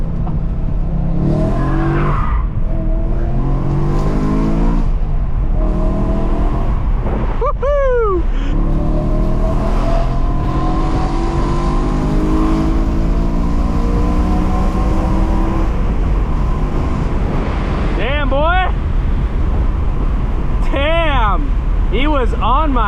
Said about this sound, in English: what a great downshift